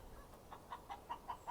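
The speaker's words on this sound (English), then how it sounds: "the chickens, while they're in these different areas of the garden" Backyard chickens clucking while foraging among garden prunings and mulch, a quiet series of short, evenly spaced clucks that rise and fall in a loose rhythm, faint and close with no voices.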